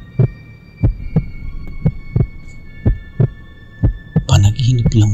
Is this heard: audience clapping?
no